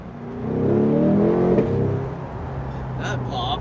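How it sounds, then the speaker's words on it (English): A 2021 Chevrolet Corvette convertible Z51's V8 revs in a brief rising growl that peaks and drops with a pop on the gear shift, then settles into a low steady hum as faint voices enter near the end. "just the V8 sounds so good, and it's so different than, for example, a Hemi V8 noise"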